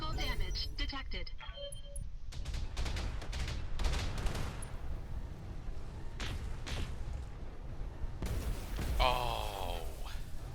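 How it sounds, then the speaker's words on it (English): Battletech video game combat: bursts of mech weapon fire and a booming ammo explosion crack and rumble in rapid succession, with electronic alerts and a synthetic voice announcing damage over the dense battle noise. "Ammo explosion."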